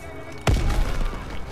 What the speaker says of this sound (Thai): โอ้โหโดนระเบิด